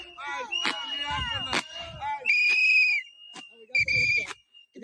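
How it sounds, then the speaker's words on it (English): Protesters in a street blowing shrill whistles, several long piercing blasts and warbling tones in bursts at close range, with people shouting and talking between them. "More whistles."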